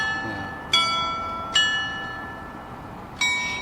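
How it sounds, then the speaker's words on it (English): Church bells ring from the tower of St Michael's in Kyiv at 8 p.m., three bright, resonant strikes spaced unevenly over a steady low background hum, each decaying slowly. "We can hear Michael's bells tower right now."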